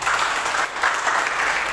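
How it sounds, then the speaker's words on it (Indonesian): Church congregation applauding during a Sunday service, a dense burst of clapping from many hands that swells and dips across under two seconds, close and loud with no voices over it. "berikan tepuk tangan untuk Tuhan"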